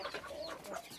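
Chickens and guinea fowl cluck faintly at a farm, a brief patch of overlapping bird calls with no talk.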